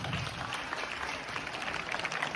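Applause for a teacher, Madhu ma'am, from the whole school at an Indian school assembly: a steady, moderately faint wash of many hands clapping, sustained without break.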